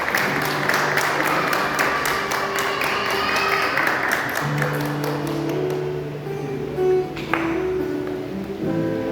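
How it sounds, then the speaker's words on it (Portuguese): A church congregation applauds new members being welcomed at a Sunday school service, a dense sustained clapping that fades toward the end, with a few voices under it. "Tem uma salva de palmas para ele."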